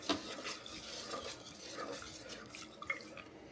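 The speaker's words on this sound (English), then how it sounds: "We're going to take our whisk, because we have all that in there." Homemade butter being whisked in a bowl, soft wet sloshing and light tapping of the whisk in quick irregular strokes, faint and close.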